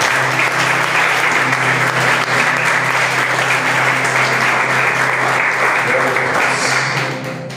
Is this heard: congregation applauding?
yes